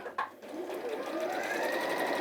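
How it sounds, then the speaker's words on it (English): A domestic sewing machine runs steadily, stitching down the side of a quilting fabric piece, a continuous close whirr that builds slightly after a brief start with no talk over it. "I'm going to sew down the sides of those. I'll just sew down one side."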